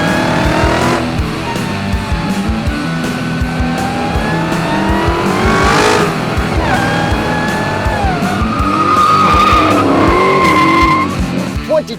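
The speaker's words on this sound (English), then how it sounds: "'22 Dodge Challenger SRT Hellcat Widebody Redeye Jailbreak. with launch control." A 2022 Dodge Challenger SRT Hellcat Widebody Redeye Jailbreak launches with launch control, its engine roaring loud and close while the tires squeal in long rising and falling tones.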